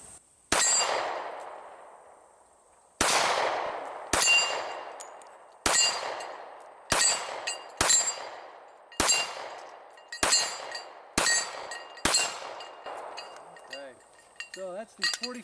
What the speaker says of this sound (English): All right, let's put some 45 calibers on these plates.